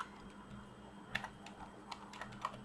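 Quiet clicking of a computer keyboard as someone types, a short run of irregular, light keystrokes close by over a soft room hum.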